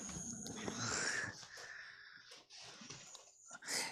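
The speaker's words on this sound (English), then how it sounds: "Is that your fur baby snoring?" A dog snores with a wheezy, raspy breathing sound, loud and close, its rough inhales and exhales continuing without pause for about four seconds, with no talking.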